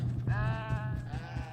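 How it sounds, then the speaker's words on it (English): A meep creature in the video game Munch's Oddysee lets out a loud, sheep-like bleat, a single sustained wavering call over a low background hum. "So the meep are really loud."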